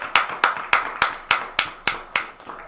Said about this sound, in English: could the rest of you toot your horns or give them a round of applause?